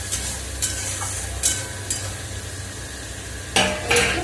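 Spices being stir-fried in oil in a kadai, a steady sizzle broken by several loud spatula scrapes and clinks against the pan, close and without talk.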